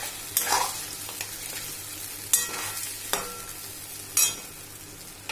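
Chicken fries in a pan as ginger garlic paste is stirred in for a chicken masala, with a soft steady sizzle broken by four or five distinct scraping stir strokes, close and alone.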